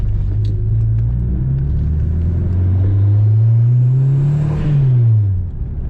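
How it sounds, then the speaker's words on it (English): A turbocharged Pontiac Fiero engine hums steadily up close, its pitch rising as it revs and then dropping off, with a faint turbo whistle over the rumble and no talking. "Can't beat the sound of the turbocharger though."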